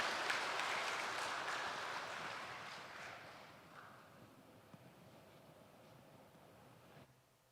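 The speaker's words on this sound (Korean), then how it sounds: "한 번 더 박수 쳐주세요." Applause from a church congregation at a Sunday worship service, loud and dense at first, then thinning and fading over several seconds to quiet room tone.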